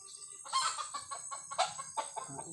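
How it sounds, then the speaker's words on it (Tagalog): Chickens cluck repeatedly in quick, overlapping bursts, close by and moderately loud. "Tingog mga manok guys."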